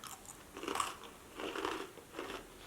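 Someone bites into crunchy brownie-flavoured chips with chocolate chips, three separate crisp crunching bites spaced about a second apart, close and fairly quiet.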